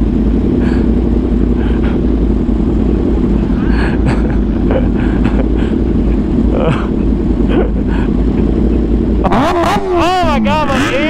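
Superbike motorcycle engines at a big automotive event make a loud, continuous roar, sharp revving sweeps climbing and falling near the end, with voices talking under the noise.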